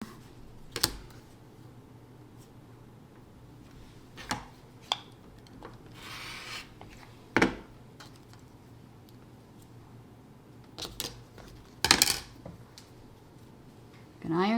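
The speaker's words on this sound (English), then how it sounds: "we're going to trim off from 1/4 inch away from the seam" Scissors trim quilt fabric a quarter inch from a seam, giving several short separate snips and rubs spaced apart over a quiet background.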